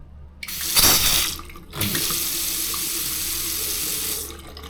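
A tap, one that first ran rusty water, gushes with a loud hiss, cuts off briefly, then flows steadily again for several seconds before stopping; no voices.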